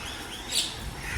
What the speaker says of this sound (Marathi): आता मी पक्ष्यांचा आवाज जशाला जसा टिपला आहे.